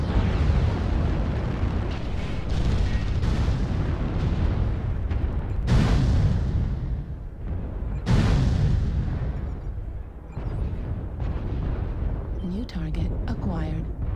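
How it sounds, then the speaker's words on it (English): Artillery strike explosions in a video game rumble as a continuous heavy barrage of deep booms, with two louder blasts standing out partway through and a fainter stretch near the end, mixed with game sounds. "New target acquired. Artillery strike online."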